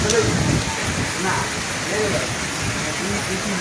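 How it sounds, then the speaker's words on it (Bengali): Steady rain hisses close by on a flooded riverbank, a dense wash of noise with people talking over it. "বৃষ্টি হচ্ছে, বাইরে বৃষ্টি হচ্ছে।"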